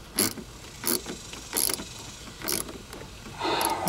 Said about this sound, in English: we can use a 5/16 deep socket to tighten the